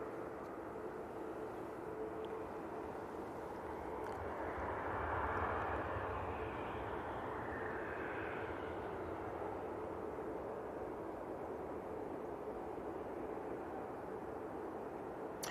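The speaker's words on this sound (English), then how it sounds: "Aer Lingus now touching down from Dublin, using their A320." An Aer Lingus Airbus A320 arriving from Dublin touches down at Manchester Airport, a steady distant roar of engines and rushing air that swells slightly midway and holds on without talk.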